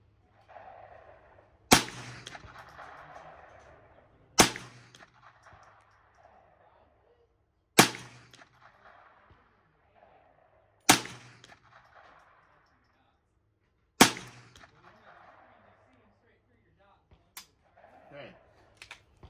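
Five sharp gunshots from 40 grain bulk ammo at an outdoor shooting range, spaced a few seconds apart, each with a short echoing tail, with a quieter pop near the end and faint talk between shots.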